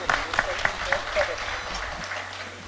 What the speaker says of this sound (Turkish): alkış istiyoruz